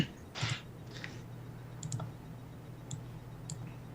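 Scattered keystrokes on a computer keyboard during an online tabletop game session: a handful of sharp, close clicks spaced irregularly, with a soft swipe near the start, faint and without talk.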